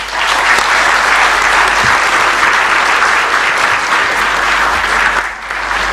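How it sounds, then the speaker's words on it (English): At a college convocation ceremony in a Kathmandu hotel, a large audience gives loud, sustained applause, thick and even, tapering briefly near the end. "Let's give them a big applause."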